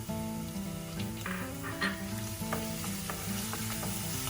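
Two garlic cloves fry in about a cup of oil, giving a steady close sizzle with bubbling crackles and occasional stirring scrapes, while a tonal hum sits underneath.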